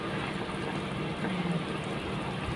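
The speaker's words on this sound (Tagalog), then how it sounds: "Kumukulo na siya." Chicken skin boils in a pot with a steady, dense bubbling hiss at close range, rolling on evenly without pause and with no talking.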